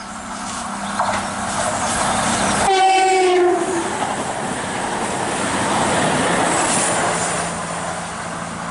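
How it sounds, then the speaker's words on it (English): A Class 220 cross-country passenger train roars past close by at a station, sounding a loud two-tone horn early on as the rumble of wheels and carriages continues throughout. "Here's a cross-country service passing through from Penzance to Motherwell."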